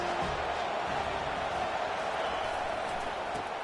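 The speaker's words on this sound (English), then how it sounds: "This crowd bringing the energy and noise early." Dense crowd roar fills the stadium at a USC versus Michigan college football game, a steady even wall of distant voices with faint cheering and no clear peaks.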